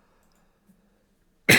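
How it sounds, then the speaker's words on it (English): A single sharp cough bursts out suddenly, loud and close, after near silence. "I'm talking a lot. That's why I'm coughing."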